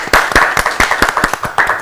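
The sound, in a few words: audience clapping for children on stage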